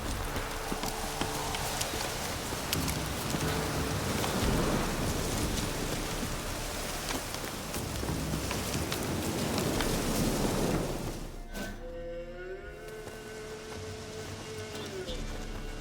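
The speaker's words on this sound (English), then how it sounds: "Oh, it's drizzling. Do you hear?" Light drizzling rain in the video game The Witcher, a steady soft hiss of rainfall with faint hoof clops and speech in the background, thinning out near the end.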